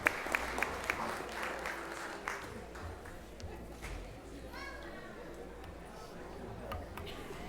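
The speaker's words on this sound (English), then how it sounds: "Let's have a round of applause for them." Scattered applause from a school board meeting audience, a few sharp nearby claps up front then thinning into faint, sparse clapping with low room chatter in the background.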